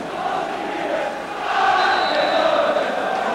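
A football crowd at a 1993 St Johnstone versus Kilmarnock Scottish Cup replay roars as Kilmarnock return for the second half, a broad distant swell of cheering that grows louder midway and holds.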